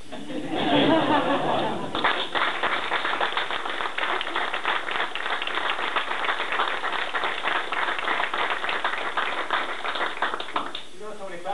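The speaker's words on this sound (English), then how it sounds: "And I would ask that we give a round of applause." A crowd at Lieutenant Lee's retirement party bursts into sustained, dense applause that runs steadily for several seconds, preceded by a moment of voices and laughter, then tapers off near the end.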